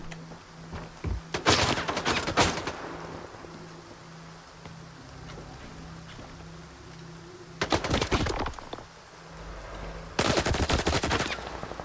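Bursts of automatic gunfire in the video game STALKER 2, set in a swamp: a loud volley near the start, then two more heavy rattling bursts later, separated by quieter stretches with a low steady hum.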